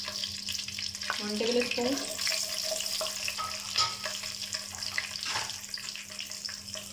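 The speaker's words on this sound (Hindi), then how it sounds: "ऑयल हमारा गर्म हो गया, अब इसमें सफेद ज़ीरा शामिल कर रही हूँ" White cumin seeds sizzle in hot oil for an egg korma, a steady bright frying hiss running throughout with a few soft stirring clinks and a brief spoken measurement early on.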